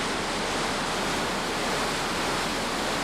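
A river waterfall rushes in a steady, dense roar of white water that stays loud and unbroken throughout, with nothing else audible.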